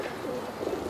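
Pigeons cooing softly in a backyard loft setting, a low, continuous murmuring coo at moderate distance with background air noise, no talk.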